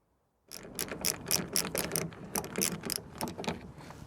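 Rapid ratcheting clicks in uneven bursts as trim screws are backed out inside the boot of a Ford Mondeo Mk3, close and fairly loud with no talking.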